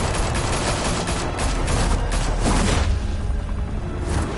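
Bursts of rapid gunfire and booming shots fill a scene in the video game Batman: The Telltale Series, loud and dense, then give way to a rumbling tail.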